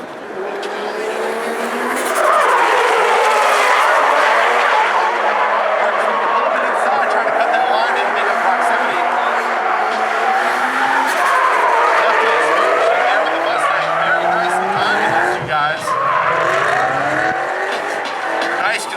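A Nissan 240SX drifts in a twin-drift battle, with sustained loud engine roar and tire squeal filling the whole stretch while a commentator talks over it.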